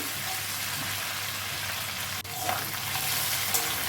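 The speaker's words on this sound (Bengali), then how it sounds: "আমি ইলিশ মাছের যে তেলটা ছিল সেই তেলটা আমি এখানে দিয়ে দিলাম আর তেলটা অনেকক্ষণ ধরে একটু আমি ভেজে দেবো" Hilsa fish oil sizzles and fries steadily in a pan, a continuous crackling hiss with a brief clink partway through.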